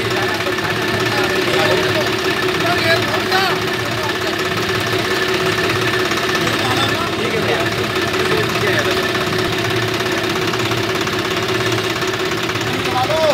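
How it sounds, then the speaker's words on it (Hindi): A Swaraj 735 FE power-steering tractor engine runs steadily in the dusk, a continuous loud mechanical drone with a knocking, idling throb, and a person speaks over it. "स्वराज की बहुत जबरदस्त आवाज है, बहुत प्यारी आवाज है।"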